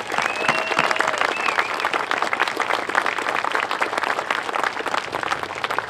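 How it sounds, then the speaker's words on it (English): Sustained crowd applause at a Veterans Day 2017 ceremony honoring veterans, loud dense clapping throughout with some cheering, continuous and even from start to finish. "Let's give them a nice round of applause"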